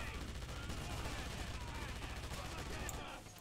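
Sustained rapid machine-gun fire in the Wolfenstein video game rattles continuously for about three seconds, dense and loud before cutting off.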